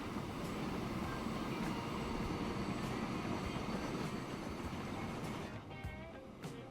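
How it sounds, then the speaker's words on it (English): Train running in the Transport Fever 2 game, a continuous low rumbling roll of wheels and engine, steady and fairly close, easing off slightly near the end with no talking over it. "No, because that train is going."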